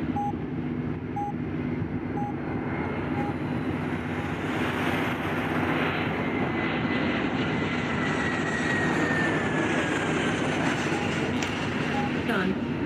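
Steady, loud engine drone of a Convair 340 propeller airliner taxiing toward the gate after landing at Aspen, continuous throughout with faint radio chatter and intermittent beeps in the cabin.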